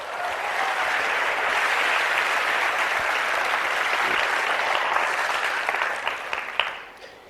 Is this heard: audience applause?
yes